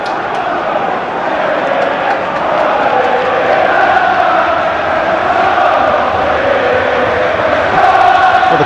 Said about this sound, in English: the crowd have finally found their voices